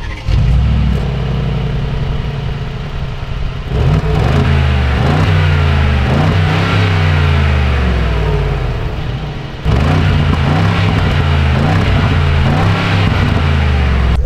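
A 2024 Mercedes-AMG G63 4x4 Squared with its exhaust in sport mode revs and settles repeatedly, loud close burbles rising and falling in several bursts over a rumbling engine, with no talk.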